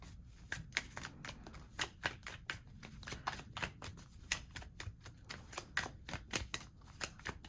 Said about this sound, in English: I didn't realize it was so hard to shuffle.